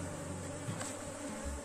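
Honey bees at an opened hive buzz and hum in a steady, dense drone close to the microphone, with no other sounds.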